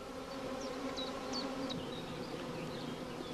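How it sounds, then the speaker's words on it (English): Many honeybees hum in a dense, continuous buzz as a swarm clusters around a caged queen, with individual insects whining past now and then, steady and fairly quiet. "The bees will cluster around the caged queen within the next few hours."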